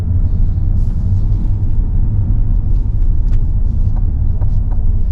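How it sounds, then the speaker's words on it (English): A 2021 Chevrolet Corvette Stingray convertible rolls slowly through a parking lot, its engine giving a loud, steady low rumble throughout with a few faint ticks and clicks above. "it's easy to drive slow through a parking lot"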